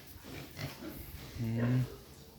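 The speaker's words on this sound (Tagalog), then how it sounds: "Ito naman yung ating pinagsamang native pigs." Native pigs on a farm grunt in short, low snorts and a longer nasal oink near the end, close by against faint background noise.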